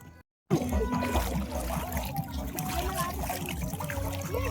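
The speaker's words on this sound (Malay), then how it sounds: "Isi air dulu. Isi air." Water trickling and pouring to fill a container at night on a beach, a steady close splashing dribble running throughout after a brief silent gap.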